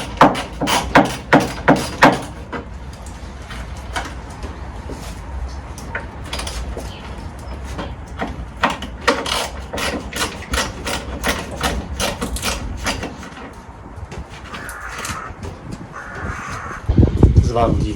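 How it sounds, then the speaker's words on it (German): A wrench loosens the 8 mm hex screws on a Mercedes W124 radiator grille, producing a run of sharp metallic clicks and ratcheting taps, clustered at first and then scattered, with someone talking over parts of it. "Und jetzt kann ich die Schrauben der Kühlermaske lösen."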